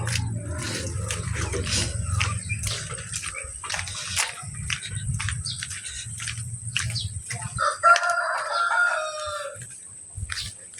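Rhode Island Red hens close to laying age, heard as a close jumble of clucks and short calls with bursts of wing flapping and scratchy movement, fading into sparser chirping clucks.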